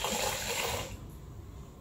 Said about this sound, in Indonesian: kita tambahkan air sampai penuh.